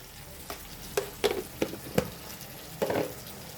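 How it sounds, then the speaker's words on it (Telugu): Ginger garlic paste and masala mixed in a frying pan: several sharp scrapes and clinks of a spoon over a soft background sizzle, bunched in the middle, fairly quiet overall. "ఇవన్నీ మంచిగా కలుపుకోవాలి."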